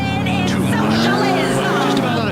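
A car engine drones steadily and loudly as a vehicle is driven in a video game, its hum continuous and close, with voices talking over it.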